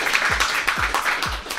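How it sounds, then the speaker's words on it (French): Studio audience applause in a talk show, continuous clapping at moderate level with a few low thumps underneath, short and without speech. "Nous allons déjà t'applaudir bien fort, déjà pour commencer."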